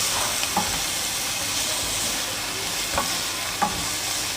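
Chicken and vegetables fry with spices, black pepper and chili flakes in a hot pan, giving an even, moderate sizzle with a few soft scrapes of stirring.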